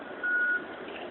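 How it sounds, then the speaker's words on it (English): A single steady electronic beep from a reversing truck on a residential street in Lakeland, Florida, held for a moment over a dull background hum. "All this beeping and activity out front of our house."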